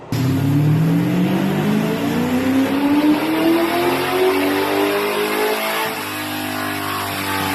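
An LS3 V8 swapped into a Mazda RX-8 revs hard on a dyno, the engine note climbing steadily in a loud, continuous pull before easing off near the end.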